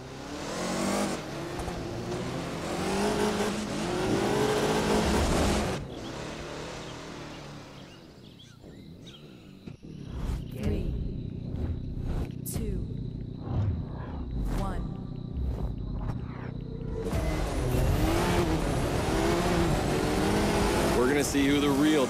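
Off-road race cars rev and roar in The Crew 2, loud engine drones rising and falling with a quieter stretch in the middle broken by clicks and short bursts before the engines surge again.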